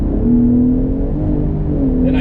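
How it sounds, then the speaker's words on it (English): A 2022 Ford F-150 Raptor's engine revs as the driver downshifts with the paddle shifters, a close, steady engine drone whose pitch dips and climbs again over a couple of seconds. "Another thing I like about this Ford F-150 Raptor is that it has paddle shifter, so I can downshift"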